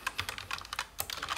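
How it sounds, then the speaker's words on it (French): Rapid typing on a GXT 834 Callaz mechanical TKL gaming keyboard, a fast irregular run of loud clicky keystrokes, close and alone. "les touches font du bruit"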